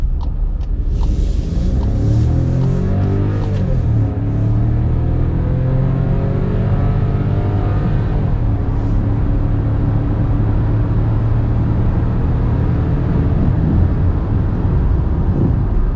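Volkswagen Nivus Highline with its turbo engine accelerating hard, a loud steady engine drone rising through the gears with a gear change near the start, close and continuous without talk.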